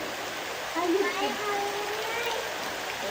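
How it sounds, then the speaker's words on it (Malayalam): Dense, steady hiss of heavy rain falling nearby, with a voice talking briefly over the downpour. "എന്ത് മഴ നല്ല മഴയുണ്ട്"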